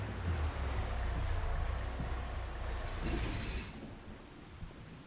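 Rain and thunder in a survival video game set on an island: a low rolling thunder rumble over steady rainfall hiss, fading toward the end with no voices.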